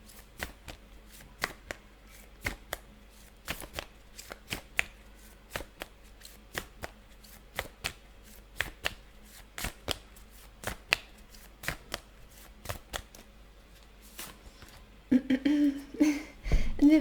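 Tarot cards are shuffled close up in a long series of crisp, irregular flicks and snaps. Near the end the handling turns louder, with rustling and a brief voice.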